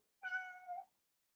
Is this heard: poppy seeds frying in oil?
no